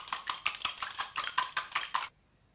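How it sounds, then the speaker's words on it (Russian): Rapid metallic clinking and scraping in quick bursts, a whisk beating egg white against a bowl up close, then it stops abruptly. "И взбиваю при помощи венчика."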